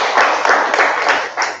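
Audience at a Toastmasters club meeting clapping for themselves, a fairly short burst of mixed hand claps in a room, steady and moderately loud throughout.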